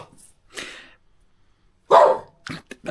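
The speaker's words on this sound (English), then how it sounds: "The dogs. What is wrong with you, Roger?" Dogs bark in short, loud bursts close by on a snowy day, a few separate barks with quiet gaps between them and a quick cluster of yips at the end.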